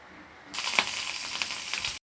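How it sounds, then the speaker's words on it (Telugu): A tava masala chicken burger roasts in a hot pan, giving a sudden loud, steady sizzle with small crackles that runs for about a second and a half before cutting off, with no talk. "అప్లై చేసుకున్న చికెన్తోని అప్లై చేసుకున్న బర్గర్ని ప్యాన్లో పెట్టి 5 మినిట్స్ రోస్ట్ చేసుకుంటే అయిపోతుందండి"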